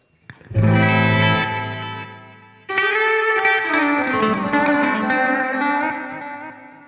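Electric guitar run through a Yonex Zodiac Echo tape delay in Loopy Pro during a blues jam, two sustained chords ringing with a warm repeating echo tail, loud and alone.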